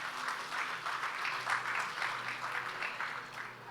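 Audience clapping for Pushpesh Pant, a steady crowd applause that stays even and moderately loud throughout, with no talk over it.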